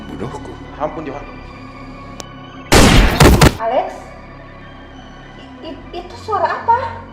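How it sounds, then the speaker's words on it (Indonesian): A single dense burst of gunfire, about a second long, breaks out loudly in the middle of a tense Indonesian action-film scene, with dialogue and voices before and after it. "karena ada suara tembakan tuh."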